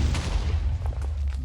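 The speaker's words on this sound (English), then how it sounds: "the kinetic micro missiles," Kinetic micro missiles from an Iron Man mod in Minecraft exploding in quick succession, a loud rumbling burst of booms and crackles lasting about a second and a half.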